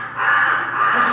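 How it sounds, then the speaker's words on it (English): A theatre sound effect of a bird squawking loudly: a single harsh, crow-like caw that sounds close and alone, lasting about a second. "This wakes up Benedict, who squawks loudly"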